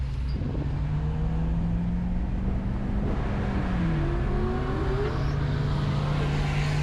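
A 1995 Pontiac Parisienne accelerating at a drag race street-car shootout: a steady, loud engine drone with the pitch rising and shifting as it revs, heard amid continuous outdoor crowd and track noise.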